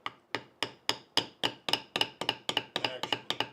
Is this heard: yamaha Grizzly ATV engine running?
no